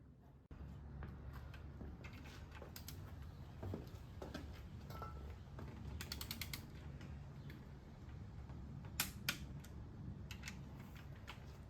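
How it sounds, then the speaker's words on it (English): A torque wrench tightens connecting rod bolts on a 430 MEL engine during a rebuild, making faint, scattered ratcheting clicks and ticks against a low background hum, with a few sharper clicks near the end. "And this is being torqued 45 to 50 foot-pounds per something I found on a forum."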